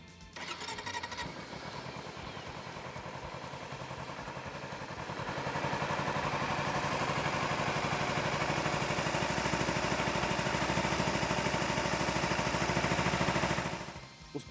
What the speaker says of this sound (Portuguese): Ligue a moto e veja se há algum barulho de peças batendo dentro do motor.